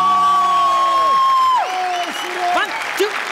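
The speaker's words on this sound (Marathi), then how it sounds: "एकदा जोरदार टाळ्या" Audience applause at a Marathi stage comedy show, a broad wash of clapping under a prominent sustained voice or musical tone that glides and shifts near the end.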